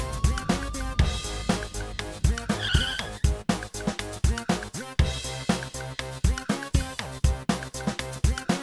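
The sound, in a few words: car turning around with skidding tires, drama sound effect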